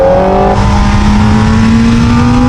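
A Kawasaki ZX-4RR motorcycle engine revving high and holding, its pitch climbing slowly, loud and close with wind rush.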